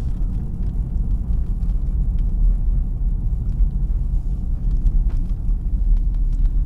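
A car drives through the Peccole Ranch residential neighborhood in Las Vegas, Nevada, giving a steady, close, low rumble of engine and road noise with no talking.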